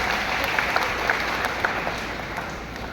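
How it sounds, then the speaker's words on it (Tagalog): A church congregation applauds for the Lord at a 26th anniversary service, steady dense clapping from many hands, loud and close, continuing throughout without pause. "Palakpak sa Panginoon"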